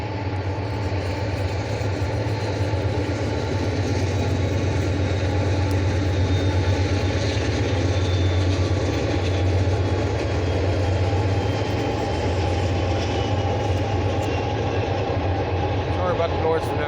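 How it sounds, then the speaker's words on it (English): A train passing near the woods, a steady loud rumble and rolling wheel noise sustained throughout, with a faint screech near the end. "About the noise from them trains."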